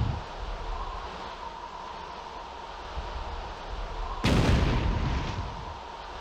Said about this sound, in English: Looks like it exploded somehow not onto the target